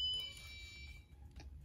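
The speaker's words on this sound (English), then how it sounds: "Sorry about that beeping. It's just from the emergency room." Steady high-pitched electronic alarm tones from a hospital emergency room sound for about a second, fading out, over a low background rumble.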